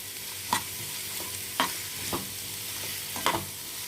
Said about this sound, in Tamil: இது வந்து வெங்காயம் வந்து முழுமையாக வதங்கக்கூடாது பாதி வதங்கள் தான் வதங்கணும்